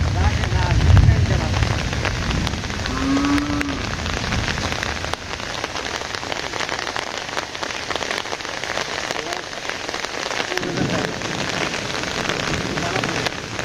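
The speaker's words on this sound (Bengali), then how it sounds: "আর যে সুন্দর বৃষ্টি হইলো" Steady heavy rain falls outdoors in a village during a fishing outing, a dense continuous patter on surfaces and foliage, loud and close throughout, with brief voices and a soft low rumble near the start.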